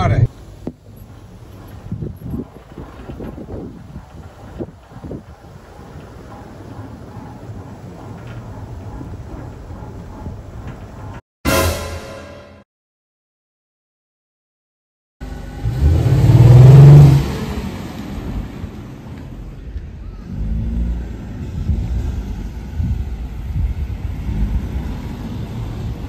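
A motorboat heads out on the water toward the Braakman, its engine droning steadily amid wind rumble, with a voice talking over it and a brief break partway through.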